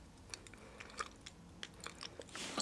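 Someone chews and smacks on grapefruit-flavored sweets during a taste test, with close, crunchy bites and wet mouth sounds in an irregular rhythm, loud and up front with no talking.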